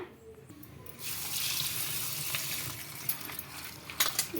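Small bitter gourds fresh from the field being washed in water, a close splashing and swishing that starts after a quiet moment and continues with occasional louder sloshes.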